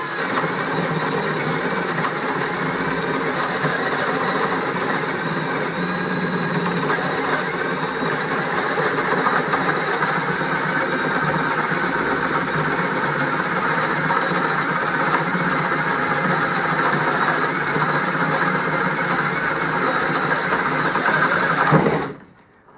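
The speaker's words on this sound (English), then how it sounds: "The 1" spade bit test, starting now." A cordless Hyper Tough 20 volt 3/8 inch drill bores with a 1-inch spade bit, a loud steady motor whine and grinding buzz running unbroken for over twenty seconds before cutting off abruptly.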